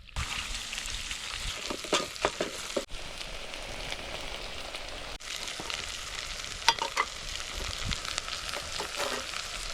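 Broth and a little flour go into a pot of meat that keeps up a steady sizzle and bubbling, with stirring clatter and brief scrapes throughout and no voices.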